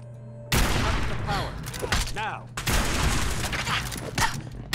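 Rapid bursts of heavy gunfire from a powerful weapon in the video game Fallout 4, loud and close, with booming shots and ricochet-like zips in two long volleys.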